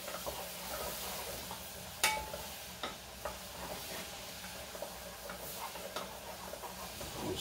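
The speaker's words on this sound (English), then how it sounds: "Melt that butter down and kind of brown it just a little bit." Butter melting and browning in a pan, a soft steady sizzle and hiss with occasional light stirring scrapes and clicks, quiet and close, no talking.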